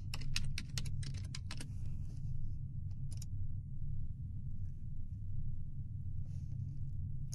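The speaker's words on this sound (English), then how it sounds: "Type in a term." Computer keyboard typing in quick bursts of clicks over the first few seconds, then sparse keystrokes, all above a steady low room rumble with no talk.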